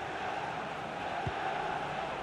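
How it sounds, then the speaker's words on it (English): A FIFA 22 stadium crowd at a Real Madrid vs Sevilla La Liga match keeps up a steady, dense roar through the closing moments, an even wash of massed voices with no distinct peaks. "The crowd certainly think so. Just listen to them."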